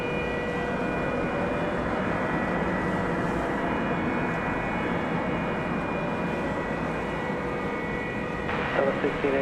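Delta airliner at DFW Airport at night, arriving from Salt Lake City: a steady, moderate jet rumble with a faint whine, continuous throughout, with a voice talking over it.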